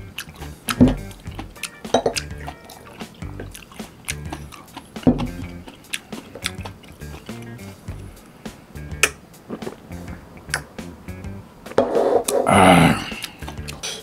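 Pork back-bone stew fried rice on an iron pan over a camping-style burner, with irregular clinks, scrapes and ticking drips through the clip and a louder burst of sizzle and stirring near the end; no talk.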